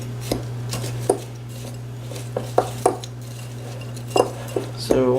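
Sugar stirred into a key lime pie crust mixture in a bowl: a few scattered light clinks and scrapes of a utensil over a steady low hum, quiet and close, no talk.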